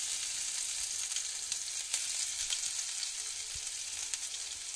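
Garlic and green chili paste sizzles and fries with cumin in a hot pan, a steady close hiss with occasional stirring scrapes and no talk.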